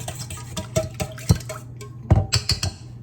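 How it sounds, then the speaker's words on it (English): Pancake batter with melted butter being mixed in a bowl, with irregular clinks and scrapes of a utensil against the bowl and some wet sloshing, close and moderately loud, no voices. "I'm just going to mix this up"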